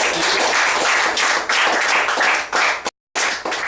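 Steady applause from a crowd at a 2013 CSEC school graduation ceremony, dense and continuous at close range with a brief cut of silence near the end before the clapping resumes.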